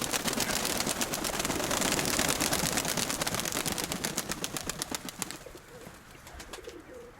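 Pigeons at a long-kept home loft coo close by in a dense, continuous chorus, with rhythmic pulsing sounds running through it that thin out toward the end.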